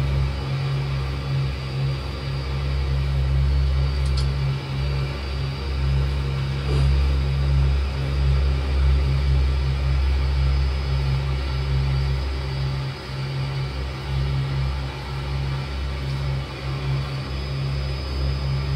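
A small aircraft engine idles with a steady low drone while taxiing along an airport taxiway near hangars and a ramp in Ketchikan, loud and continuous for the whole stretch with no talk.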